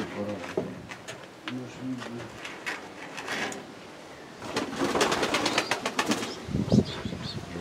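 Pigeons in a new dovecote in Kurakhovka, soft repeated cooing mixed with rustling, wing flaps and scraping movement nearby, while people talk intermittently over the birds.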